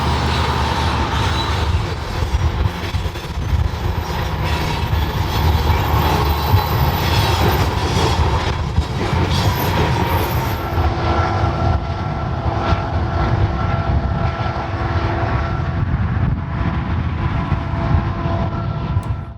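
A freight train led by two GE GEVO locomotives rolls past on the Fort Worth Sub near a bridge, a continuous heavy rumble of wheels and cars with faint squealing, steady and close for the whole stretch.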